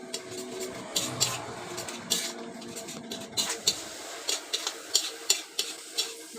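A spatula scrapes and stirs grated coconut and sugar in a pan, with a light sizzle beneath repeated metallic scraping strokes that grow sharper and more rhythmic toward the end.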